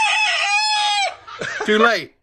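A rooster crows loudly and close by, one long sustained cock-a-doodle-doo followed by a shorter broken crowing call, with no talk over it.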